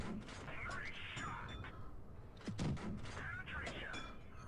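Tank cannons firing in World of Tanks Blitz during a Matilda tier 4 British medium tank match, a few heavy booming shots over steady battle ambience.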